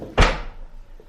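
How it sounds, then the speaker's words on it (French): A door slams shut hard as someone comes home, one sharp loud bang with a short booming decay, then quiet. "La porte. C'est pas un bunker"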